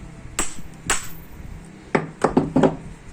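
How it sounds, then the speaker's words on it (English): Hammer gently tapping a power steering rack and pinion during disassembly: two sharp metallic knocks, then a quicker cluster of four taps, close and clear with no talk. "So gently tap it."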